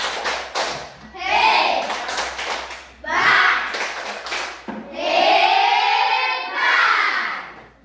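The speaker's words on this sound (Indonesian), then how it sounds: "Kita tepuk hebat" A classroom of students, standing up, performs a rhythmic clapping chant led by a teacher, with bursts of sharp claps alternating with loud group chanting in repeated patterns.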